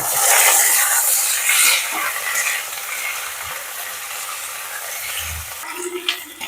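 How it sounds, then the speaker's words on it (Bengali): A steady, hissing sizzle of flat beans and potatoes frying together in a pan, mostly even throughout with a few faint clinks and scrapes toward the end. "এবার আমি শিমগুলো এর মধ্যে দিয়ে দেবো এবং সিমটাও আমি কিছুক্ষণ একটু ভেজে নেব"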